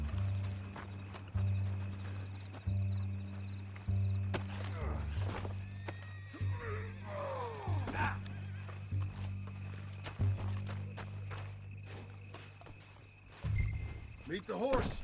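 Steady clip-clop of horse hooves in Red Dead Redemption 2, with a low droning background and a brief whinny partway through; faint voices now and then.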